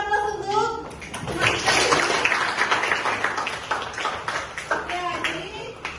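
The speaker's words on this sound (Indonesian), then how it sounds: "Oke, kasih aplaus untuk" A classroom of students applauds on cue from their teacher, dense steady clapping filling the room with some children's voices mixed in.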